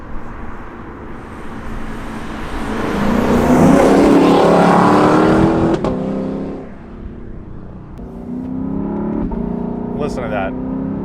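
A 2021 Lexus LC 500 Convertible with the top down, its engine swelling loud and rumbling as it accelerates through the gears, then easing to a steadier drone, with a voice talking over it.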